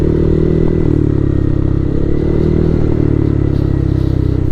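A motorcycle rumbles loudly and close as it is ridden down a steep trail toward a river crossing at Tinipak River, Tanay, Rizal, its low engine drone steady under clattering and scraping from the rough ground.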